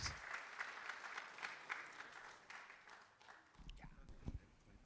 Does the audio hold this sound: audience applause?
yes